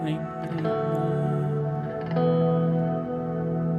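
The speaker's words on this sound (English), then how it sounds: "And a lot of delay." Guitar chords ring out through a heavy delay effect in video game music, each strum echoing and smearing into the next in a washy, sustained texture.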